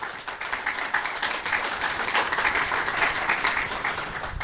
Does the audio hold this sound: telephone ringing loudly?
no